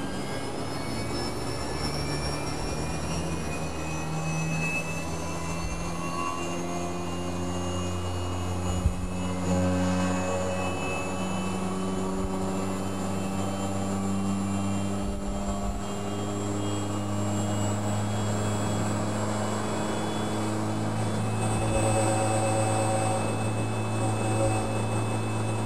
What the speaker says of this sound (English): During the warming up phase, the dry pump is rotating at full speed, 110 Hz